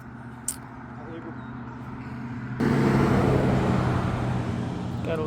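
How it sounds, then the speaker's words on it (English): Road traffic rumbles past at a moderate distance, a steady low wash of engines that swells noticeably louder partway through as heavier vehicles go by. "Gotta love the traffic."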